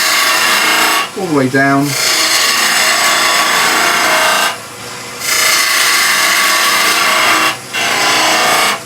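Wood turning on a lathe as a skew chisel tip pushes a bead, giving a steady, loud broadband cutting hiss that runs almost continuously with two short breaks, while a voice speaks briefly near the start.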